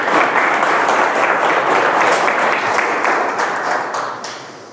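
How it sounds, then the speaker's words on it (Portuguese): Enthusiastic audience applause closes a lecture, a loud, dense clapping that holds steady and then gradually fades toward the end. "Quero enviar as vibrações das palmas de vocês"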